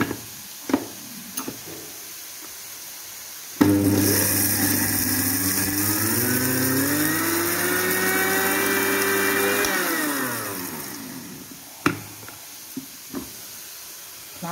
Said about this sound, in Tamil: ரெண்டு பச்சை மிளகாவும் ரெண்டு காஞ்ச மிளகாயும் ஒரு பச்சை மிளகாயும் போட்டு அரைச்சிருக்கேன்